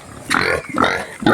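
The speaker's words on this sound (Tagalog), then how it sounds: "May baboy dito, mga kababayan" A pig, bought to be raised as a breeding sow, grunts in a few short, close snorts over a noisy outdoor background.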